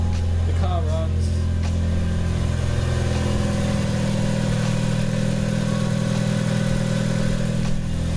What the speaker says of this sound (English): the car runs.